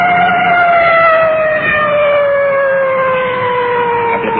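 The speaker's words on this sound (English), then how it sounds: "now you can hear that full treatment on the siren" A police car siren wails loudly and continuously with steady rising and falling tones, close and dominant, with traffic rumble faintly underneath.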